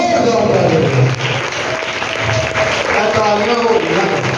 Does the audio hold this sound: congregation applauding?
yes